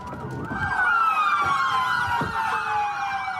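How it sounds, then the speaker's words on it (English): Several police car sirens wail together in overlapping rising and falling tones, loud and nearby, with faint road traffic and thumps underneath. "A lot of police cars."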